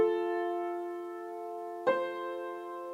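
Piano notes played with the right hand in the treble range: one tone rings and fades, then a second key is struck, clear and close with no voices.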